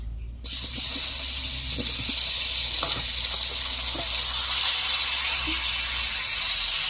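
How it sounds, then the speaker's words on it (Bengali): Boiled potatoes and arum root fry in leftover fish-frying oil, a steady loud sizzle with occasional soft stirring knocks, no talk. "মাছ ভাজার কিছুটা তেল রয়েছে, দিয়ে দিচ্ছি সেদ্ধ করে রাখা আলু আর মুখি কচু।"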